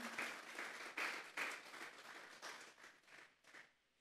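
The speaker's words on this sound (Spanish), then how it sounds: "Vamos a darle una ofrenda de palmas a Dios en esta hora" A church congregation claps in praise during a Spanish-language sermon, a dense wash of applause with a few stronger swells that gradually thins and fades out near the end.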